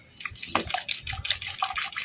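Hibiscus roots from a net pot being washed in a container of water, giving a run of small close drips and splashes in an irregular rhythm, fairly quiet.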